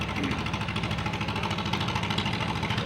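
A running MT tractor engine in a cotton gin parade, with a straight muffler, giving a steady, loud, close mid-pitched rumble with a fast even pulse and no break.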